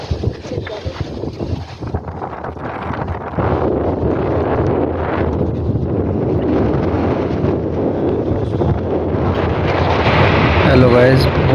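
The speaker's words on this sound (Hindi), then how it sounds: "बहुत तेज़ हवाएं चल रही हैं" Strong gusting wind roars outdoors under a darkening sky before rain, a loud, continuous broadband rush buffeting the microphone, swelling louder toward the end, with a faint voice underneath.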